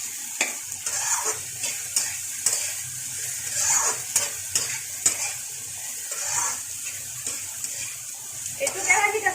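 Potato bhaji frying in a wok: a steady, close hiss of sizzling oil broken by scraping and stirring strokes throughout, with a voice faintly underneath.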